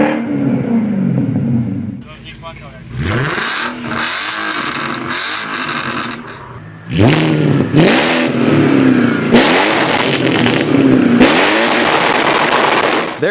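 A straight-piped Audi S8 with a 4.2 liter V8 revs loud and close, its rasping engine note climbing and falling in repeated sweeps through two long bursts with a brief dip between them.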